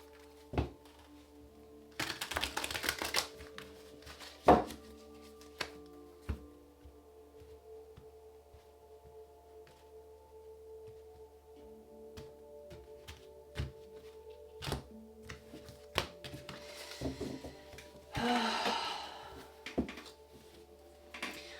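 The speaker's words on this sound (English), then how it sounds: "Let's get one more shuffle." Tarot cards being shuffled by hand, with two bursts of riffling and scattered soft taps and thuds of the deck against a quiet room, no voices.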